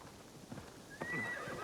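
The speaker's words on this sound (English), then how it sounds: "let's call our horse." Horse hooves clop in, followed by a single high, whinnying neigh in the video game Assassin's Creed Shadows; fairly quiet and close, with no talking.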